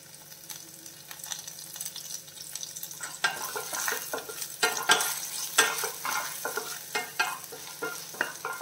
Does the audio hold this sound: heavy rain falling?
no